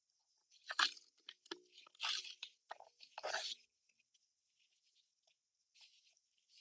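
A certification package is torn open by hand, with close crinkly paper and cardboard ripping in several short bursts, then quieter rustling after a pause.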